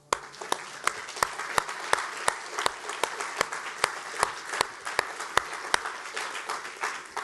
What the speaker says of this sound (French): Et rien que ça, on peut lui donner une ovation.